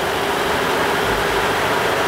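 A barge engine, on a boat at Mayotte, drones steadily and loudly throughout with a low rumbling hum and broadband noise; the rising acceleration cannot be clearly made out.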